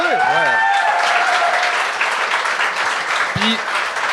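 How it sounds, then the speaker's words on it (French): Audience applause at a French-language comedy show, dense and loud, starting under a voice and a short musical phrase, then continuing as broad sustained clapping. "On peut l'applaudir"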